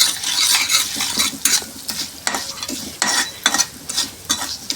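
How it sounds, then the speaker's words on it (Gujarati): Potato masala for dosa is stirred in a pan with a sizzle underneath, a spoon scraping in repeated rhythmic strokes, loud and close with no voices. "હવે આ મસાલાને આપણે હલાવી નાખીશું"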